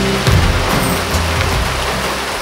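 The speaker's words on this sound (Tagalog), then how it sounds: "Nagiging maulan na nga ulit ang panahon ngayon." Steady, heavy rain pours on a surface around a camper jeepney home in the Visayas, a dense, continuous hiss close by with no voices.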